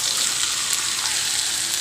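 Meat frying in a pan while being stirred, a loud dense hiss of sizzling fat with soft stirring scrapes underneath, brief and continuous, no voices.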